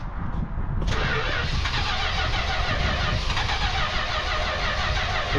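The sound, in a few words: car engine cranking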